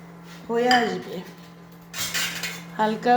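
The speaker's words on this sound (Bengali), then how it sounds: "আমি প্রথমে তো ঝাল পেঁয়াজ তেলের মধ্যে দিয়ে একটু নাড়ব" A utensil scrapes and clinks against a pan while onions and chillies are stirred in oil, in short rough bursts over a steady low hum, with a voice briefly heard.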